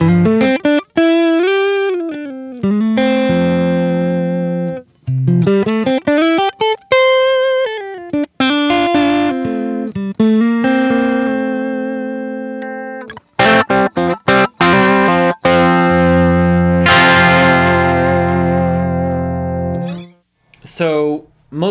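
Electric guitar played through a Ronin Mirari, recorded direct at home with a mostly clean tone and slight breakup. Sustained chords and single-note lines ring out up close and loud, with short gaps between phrases.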